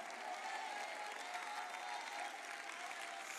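A congregation applauds steadily during a Spanish-language church sermon, a dense, even wash of clapping from many hands that holds through the whole stretch with no voices over it.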